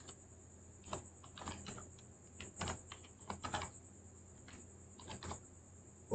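Typing on a computer keyboard, irregular quick runs of soft key clicks with short pauses, close and quiet.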